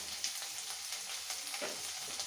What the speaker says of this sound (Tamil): நல்லா ஃப்ரை ஆகணும், நல்லா மொறுமொறுன்னு வர அளவுக்கு வச்சுக்கலாம்